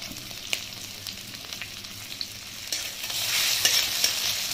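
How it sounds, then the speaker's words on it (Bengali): Spice paste with onion, ginger and garlic fries in a pan, a continuous moderate sizzle with scattered stirring taps that swells louder in the final second or so, with no voices. "মশলাটা আমি ভালো করে কষিয়ে নিচ্ছি। বন্ধুরা দেখুন, মশলাটা ভালো করে ভাজা হচ্ছে এখানে।"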